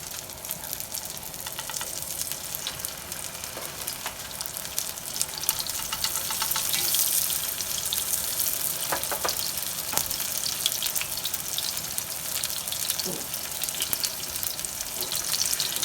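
Lentil patties sizzle in a hot pan, a steady broadband hiss of frying oil with scattered pops and crackles running throughout, close and moderately loud with no talking.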